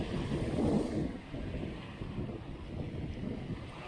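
Wind buffets the microphone aboard a moving boat, with a steady rumbling rush of air and water throughout.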